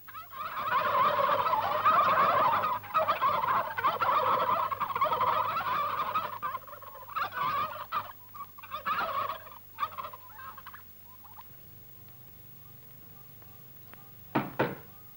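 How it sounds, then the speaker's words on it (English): A flock of farm turkeys gobbles loudly and continuously, with bursts of chattering calls that fade to scattered gobbles and a knock near the end. "And there are turkeys to be fattened for Christmas dinner."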